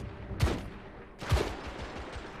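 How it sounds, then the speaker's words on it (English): Two separate bursts of M2 Falchion auto rifle fire in The Order: 1886 video game, each a short sharp crack with a tail, heard quietly about a second apart. "we can use our normal gun now. My primary weapon. The M2 Falchion auto rifle."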